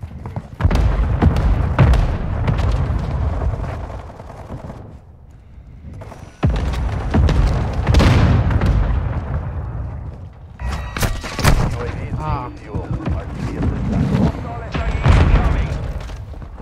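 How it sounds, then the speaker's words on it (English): Mortar strikes land in Modern Warfare 2 gameplay as a run of heavy, booming explosions, each with a thudding low impact and a rumbling tail. Gunfire crackles between the blasts, and a player talks at times. "Hostile mortar strike incoming."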